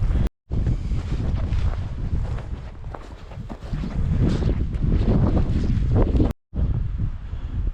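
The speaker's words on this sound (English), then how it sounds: "The wind is gusting up and down here, but it's not too bad at the moment" Wind gusting hard across an exposed pond in the wilderness, loud roaring buffets against the microphone that surge and ease, with brief drops to near silence.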